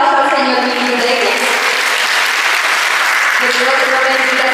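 Loud, steady applause from a concert audience at a Christmas cantata with orchestra and choir, a close, dense roar of clapping held evenly throughout with some voices under it.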